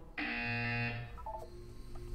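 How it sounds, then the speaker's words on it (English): A loud electronic buzzer in the video game Portal 2 sounds as one steady, harsh tone held for just under a second. It then cuts off, and a few faint electronic blips follow. "You will hear a buzzer. When you hear the buzzer, look down at the floor."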